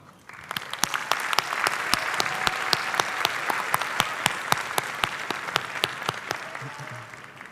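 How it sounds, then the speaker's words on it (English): An audience at a high school commencement ceremony applauds the school choir, with steady, dense clapping and a few sharp, louder claps standing out, sustained throughout before easing slightly at the end. "Round of applause for them."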